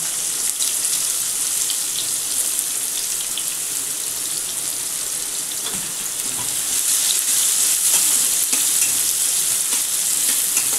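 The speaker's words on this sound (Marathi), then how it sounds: "आता हा कांदा भाजतो" Chopped onions sizzle steadily in a pan with asafoetida for a peanut green chutney. The hiss is bright and continuous, close up, with faint stirring clinks and no talking.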